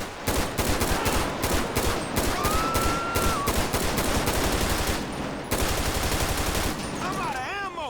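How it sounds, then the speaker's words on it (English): Rapid bursts of carbine rifle gunfire in GTA V, loud and close, firing in repeated volleys with brief pauses between strings of shots. "This is the carbine rifle."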